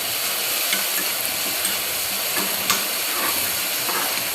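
A spoon stirs salted upma in a hot pan over a constant hissing, steamy sizzle, with soft scraping and a few faint clicks standing out against the noise.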